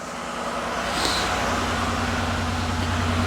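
A Ford Escape engine idling steadily with a low rhythmic rumble and hum, close by and continuous.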